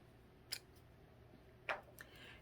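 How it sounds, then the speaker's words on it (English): Two quiet, crisp snips of scissors, spaced about a second apart, with a faint tick between them in a quiet room. "I cut the edge right up to the edge of the paper"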